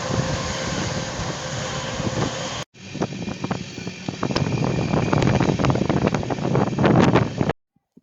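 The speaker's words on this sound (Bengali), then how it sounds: "আমাদের ট্রেনটি তার নির্ধারিত সময়েই ছেড়ে দিয়েছে" Howrah–Lucknow weekly superfast express train in motion, a continuous rumble with wind buffeting and rattling clatter of the carriage, steady and loud, cutting out briefly partway and at the end.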